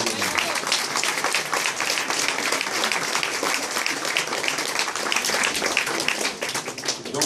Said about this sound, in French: Et elle mérite de grands applaudissements